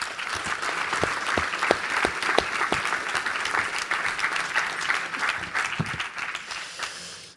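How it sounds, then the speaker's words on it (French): An audience at a round-table conference on industry and training breaks into sustained applause, a dense, even wash of many hands clapping for over seven seconds, with no speech over it. "Je vous invite à les applaudir à nouveau."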